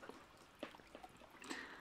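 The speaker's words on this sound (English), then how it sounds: "Jenny will get some nice water sounds for you." Soft water sounds for ASMR: faint, close trickles and a few gentle drips and pours in a very quiet space, with no speech.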